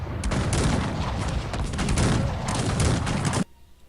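Artillery volleys in Cossacks 3 during a big battle, a dense, loud barrage of booms and crackling shots that rolls on continuously for over three seconds and then cuts off abruptly, leaving quiet.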